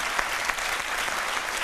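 Studio audience on a midday TV talk show breaks into loud, sustained applause, a dense wash of clapping with no talk.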